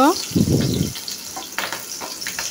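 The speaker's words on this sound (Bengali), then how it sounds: "দিয়ে দেবো সয়াবিন তেল, তেজপাতা, লবঙ্গ, কাঁচামরিচ, পেঁয়াজ কুচি, হালকা ভেজে নেব" Chopped onion, bay leaf, cloves and green chilli drop into hot soybean oil with a sharp burst of sizzling, then a spoon knocks and scrapes a few times as the frying settles.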